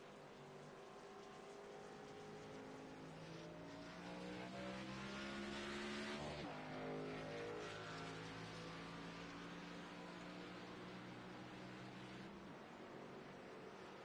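Race cars in the iRacing Xfinity Series game at Talladega roar away at the green flag, a dense pack of engines droning and rising in pitch as they accelerate together, loud and continuous.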